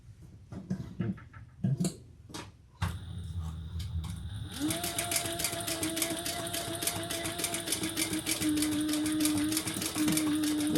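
A sewing machine stitches a Novella garment pattern, starting with a few clicks and handling noises, then running in a fast steady mechanical whir close by, with no voices.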